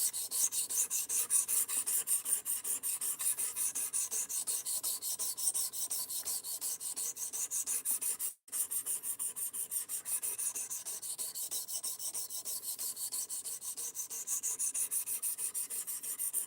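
Steady rasping strokes of a knife blade being sharpened on a sharpening stone, a continuous gritty scraping with an even rhythm throughout, close and moderately loud, broken by one brief pause midway.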